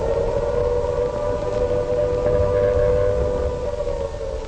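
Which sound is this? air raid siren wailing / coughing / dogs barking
air raid siren wailing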